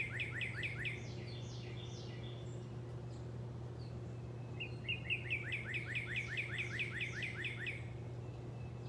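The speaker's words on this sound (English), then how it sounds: "You know what I think that the birds are saying?" Small birds chirp outdoors in quick repeated trills and short tweet series, fairly close and clear, over a steady low hum in the background with no talking.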